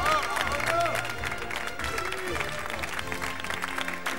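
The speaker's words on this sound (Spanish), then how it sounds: "El aplauso para el equipo" A studio audience at a televised game show applauds the team, with steady clapping and crowd noise mixed under music and a few voices.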